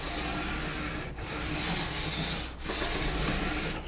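A sharpening stone rubs along a ski edge during tuning, giving a close, continuous gritty scraping in long strokes with brief breaks between passes.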